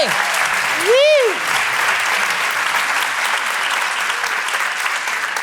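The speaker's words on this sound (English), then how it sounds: "All right, everyone give them a round of applause." A festival audience at a live TV pitch session breaks into loud, sustained applause that fills the room, with a whoop rising over the clapping early on.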